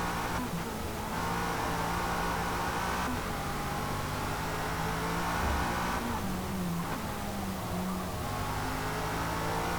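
A 2002 Lotus Esprit V8 racing at Le Mans in Forza Motorsport, its engine droning loud and steady with rising and falling revs through gear changes, continuous throughout with no talk.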